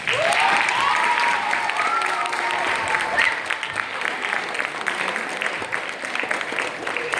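A crowd applauds loudly, a dense wash of clapping that slowly tapers off, with a few cheers early on.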